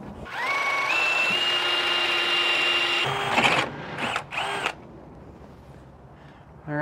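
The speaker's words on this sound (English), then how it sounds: "So let's go ahead and get started drilling." A power drill whines steadily at high pitch for about three seconds while drilling metal on a Ford F53 chassis, then several shorter bursts as it bites in, followed by quiet.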